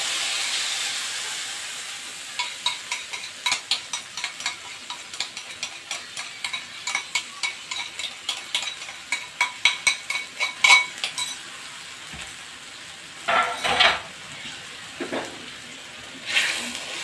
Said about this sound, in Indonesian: Kita siapkan minyak panas. Masukkan, kita tumis sampai bumbunya matang ya.